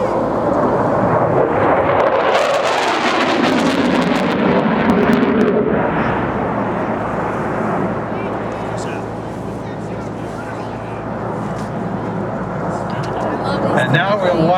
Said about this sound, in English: the F-4 Phantom